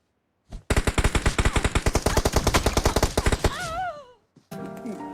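Rapid automatic gunfire in the mobile battle royale game BGMI, a loud sustained burst of evenly spaced shots lasting about three seconds, followed by a whistling tone and a short musical game sound.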